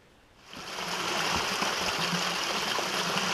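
A small stream trickles and burbles in the Scottish wild-camping countryside, fading in and then flowing steadily, close and fairly loud, with no one speaking.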